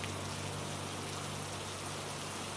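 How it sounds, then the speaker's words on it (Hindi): Steady rain falls in a dense, even hiss with no talking, fairly faint and constant throughout, as in a village downpour. "बरसात की हर बूंद जैसे रामू के सपनों को भिगो रही थी।"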